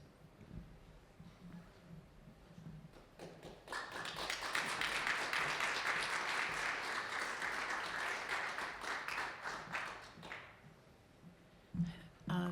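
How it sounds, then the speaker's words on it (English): Applause from a festival talk audience swells up after some scattered taps, holds strongly for several seconds, then fades back to sparse claps at moderate distance. "Applause."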